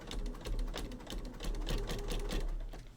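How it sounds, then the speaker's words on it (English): A home sewing machine stitches a quilt project along a marked line, its steady rapid mechanical chatter running continuously and close for the whole stretch with no talking. "we are going to stitch to the next line."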